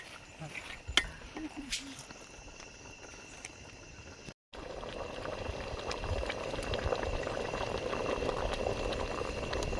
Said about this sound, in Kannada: ನಳ್ಳಿ ಚೆನ್ನಾಗಿ ಬೆಂದಮೇಲೆ ಸಾಂಬಾರು ಹಾಕಬೇಕು.